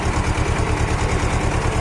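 A farm tractor's engine idles close by with a loud, steady, low throbbing pulse that repeats evenly.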